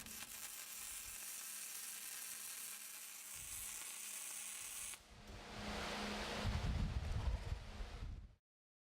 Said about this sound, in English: You make one straight weld.